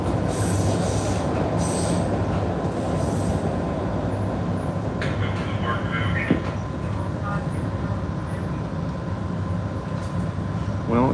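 A passenger train rolls along the rails with a loud, constant rumble heard from inside the car, high metallic wheel squeals rising briefly over it, while people talk faintly in the background.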